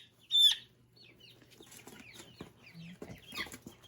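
A five-week-old Barred Rock chick gives soft clucks and chirps, with one louder squawk near the start, close by in a quiet brooder.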